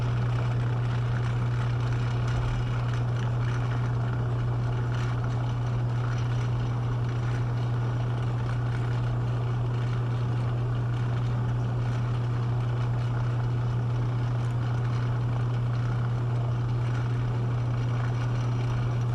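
A hot chocolate maker runs with a low, steady hum and even whirring that holds constant throughout, moderately quiet and close, with no voices.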